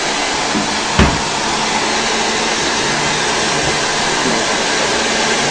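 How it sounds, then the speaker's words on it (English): A hair dryer blowing a woman's hair after a hair transplant, heard as a loud, steady, close whooshing roar throughout, with one brief bump near the start. "Now we're going to blow dry her hair."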